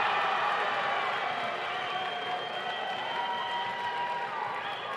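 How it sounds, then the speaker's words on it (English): Crowd at a Rich High School boys basketball game cheering during the school band's drum solo, a fairly quiet, steady roar of voices and clapping with a few faint tones mixed in. "The crowd goes wild for a drum solo from the Rich High School band"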